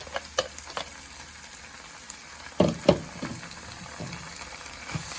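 Chili paste sizzles steadily in a pan of Nepali-style Szechuan sauce, with a couple of sharp spatula scrapes and clacks midway and softer stirring knocks around them, with no talking.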